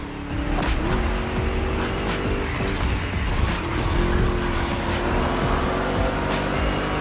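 A car races in The Crew Motorfest video game, engine droning loudly and continuously with tire squeals and road noise throughout.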